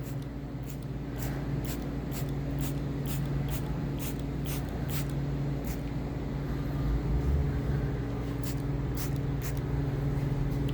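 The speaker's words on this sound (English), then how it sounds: "Try to stand back here so you can see it get sprayed on." Chromazerol wood preservative is sprayed onto an eight-foot timber in repeated short hissing bursts over a low mechanical hum, fairly close and moderately loud.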